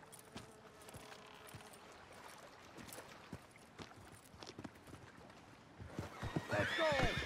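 Horses in Red Dead Online whinny loudly near the end, with scattered hoof clip-clops and faint steps through a noisy outdoor scene before it.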